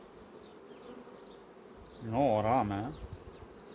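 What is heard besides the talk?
honeybees buzzing around a hive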